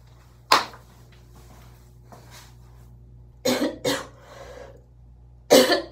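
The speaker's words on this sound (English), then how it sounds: "Having to cough with a C-section, that is not okay." Coughs from a woman recovering after a C-section, heard at home: one sharp cough early, then a pair of coughs and another burst near the end, close and loud over quiet room noise.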